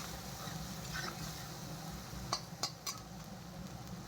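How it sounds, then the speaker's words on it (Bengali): Spices fry in a pan for a homestyle eggplant bharta, a steady hissing sizzle running throughout while a utensil stirs, with three sharp clinks against the pan near the end. "এগুলো দিয়ে এখন নাড়াচাড়া করে ভালো করে ভেজে নেবো।"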